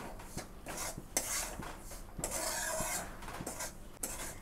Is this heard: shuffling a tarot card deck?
no